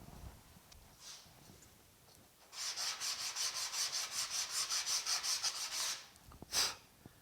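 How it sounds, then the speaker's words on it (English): Hand sanding on a truck fender during deer-damage repair: a couple of faint strokes, then a quick run of about fifteen rhythmic back-and-forth scrapes, close and fairly soft, ending with one last stroke. "just a little bit of sanding real quick"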